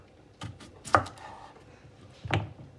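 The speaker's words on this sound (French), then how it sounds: "Faut bien les laver, les brosser avec une brosse de cuisine et les couper grossièrement" A knife chops coarsely through washed, unpeeled potatoes on a board for homemade fries, giving three sharp, separate cuts in a quiet kitchen.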